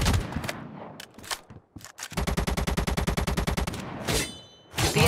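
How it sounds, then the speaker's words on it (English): Enemy automatic gunfire in ZOZ: Final Hour: a few scattered single shots, then a long rapid burst of evenly spaced rounds, loud and close, followed by more sharp shots. "An enemy player's firing on you."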